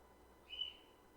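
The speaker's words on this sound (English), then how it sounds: "Gotta feed that bird you can hear in the background." A pet bird gives a single short call in the background of a quiet indoor room, faint and brief, with no one speaking.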